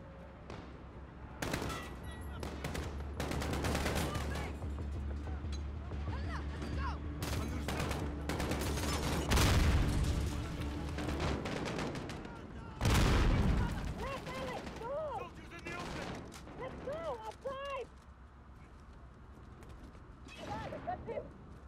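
Bursts of gunfire in Modern Warfare, repeated loud volleys and single shots with sharp cracks spread across the stretch, alongside mechanical creaks, explosions and a voice speaking between the shots.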